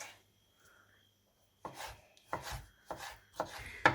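A knife chops tomatoes on a cutting board, five or so sharp, close strikes at an uneven pace after a quiet start.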